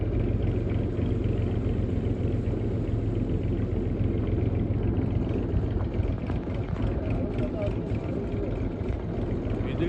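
A tractor engine drives through a torrential downpour, its low, steady rumble running continuously beneath a broad wash of rain noise with no clear pauses.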